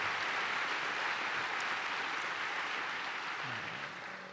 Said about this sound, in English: Please give Oscar a big round of applause for the great job that he did.